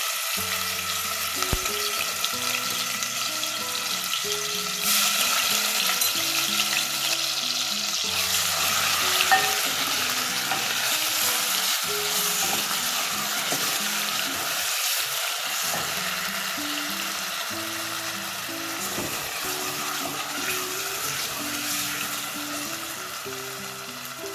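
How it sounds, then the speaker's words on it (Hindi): Ginger garlic paste sizzles loudly in hot oil, a dense continuous crackle with rhythmic scraping from stirring, close up and steady throughout with no voices. "ऑयल यहाँ मेरे पास गर्म हो चुका है, इसमें मैं शामिल कर दूंगी जिंजर गार्लिक पेस्ट।"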